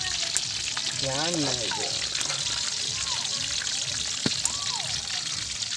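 Pork belly for lechon kawali crackles as it deep-fries in oil, a steady dense hiss with a few sharper pops, while someone talks casually over it in the middle.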